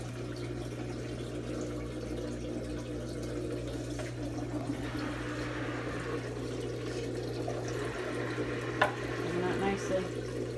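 Twin tub portable mini washing machine draining water after a second wash, a steady motor hum under a continuous rushing, gurgling flow, fairly close and moderately loud.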